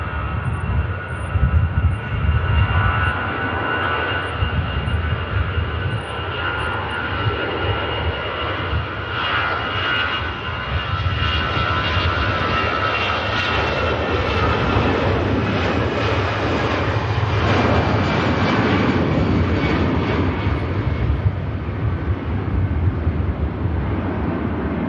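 An airliner departing Manchester Airport climbs away after take-off, its engines a sustained loud roar that swells and gradually recedes, with wind buffeting the microphone.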